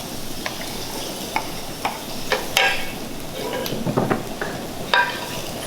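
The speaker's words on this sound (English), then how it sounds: "So when your pan is hot, put in your onion and your garlic." Onion and garlic frying in hot oil in a pan, a steady close sizzle broken by intermittent clicks and scrapes of stirring against the pan.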